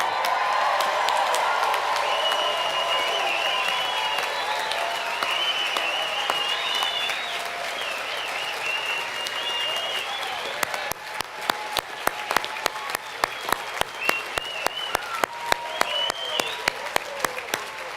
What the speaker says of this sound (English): Everybody stand and let's give them a standing ovation, everybody.